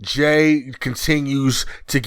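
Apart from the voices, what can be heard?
None of the usual background noises is heard.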